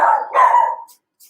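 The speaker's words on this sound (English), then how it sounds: "Without our dog barking." A dog barks close and loud, two quick barks running together into a drawn-out howling tail, followed by a couple of faint high yips.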